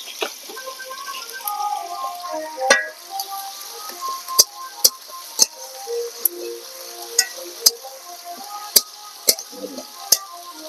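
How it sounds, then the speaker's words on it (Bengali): Chopped onions frying in hot oil in a pan on a village-style clay stove, with a soft crackle broken by sharp, spaced pops and stirring clicks that grow more frequent toward the end. "পেঁয়াজগুলো লাল লাল করে ভাজা হয়ে গেছে"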